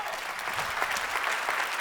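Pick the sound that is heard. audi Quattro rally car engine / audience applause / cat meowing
audience applause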